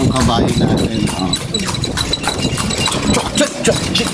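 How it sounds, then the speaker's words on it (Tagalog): A horse's hooves clip-clop steadily on a Vigan street, the rhythmic knocks partly buried under constant nearby chatter and voices. "Okay, ito yung kabayo natin."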